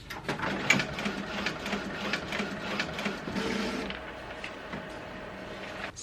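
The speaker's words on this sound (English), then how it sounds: "I'm gonna print one through the sublimation printer and one through the normal printer" A sublimation printer runs off a design for a skinny tumbler order, giving steady mechanical whirring with repeated clicking strokes for about four seconds before settling into a quieter hum; nearby and moderately loud.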